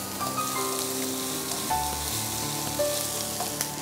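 Onions sauté in about a tablespoon of fresh oil, giving a dense, even sizzle and crackle close up that runs continuously without talk, a faint tonal hum behind it.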